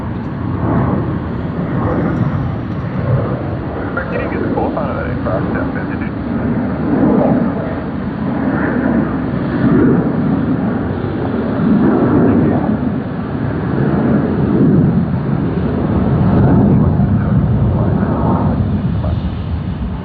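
A Thai Airways Airbus A350 arriving at Sydney Airport, heard as a loud, steady engine roar that swells and fades in broad waves, with people talking over it.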